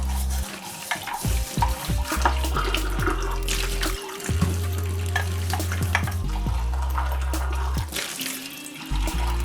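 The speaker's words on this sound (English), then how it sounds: "give it a quick wash underneath hot tap first, just to give it a quick rinse" A mug rinsed under a running hot water tap, a steady gush of water with hollow splashing and shifting pitch as the mug fills and empties, close and loud, no talking.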